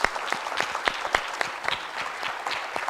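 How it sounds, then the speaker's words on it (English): Applause for the panelists at a philanthropy forum session, a steady wash of many hands clapping at moderate volume, holding through the whole span before beginning to thin. "A round of applause for our panelists this afternoon"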